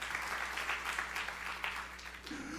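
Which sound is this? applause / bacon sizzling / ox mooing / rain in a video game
applause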